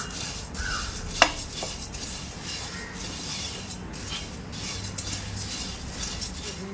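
Puffed rice (murmura) being stirred while it roasts in a pan, heard as a faint, steady dry rustle with one sharp metallic clink of the utensil early on.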